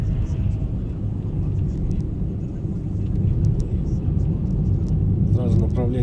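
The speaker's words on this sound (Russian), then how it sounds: "Едем, едем, разгоняй автомобиль." A car accelerates on a city street near an intersection during a driving lesson, its engine giving a steady, loud rumble with road noise that holds throughout, with a voice speaking briefly near the end.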